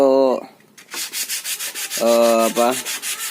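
Sandpaper is rubbed by hand over a wooden bird cage in close, quick rhythmic strokes, with two short squeaky tonal bursts at the start and midway.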